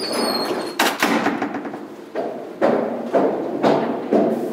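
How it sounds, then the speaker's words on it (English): Several heavy knocks on a door, spaced irregularly at roughly half-second to one-second intervals, each a loud, close thud followed by a brief decay, with no other sounds between them. "That was just a knock on the door."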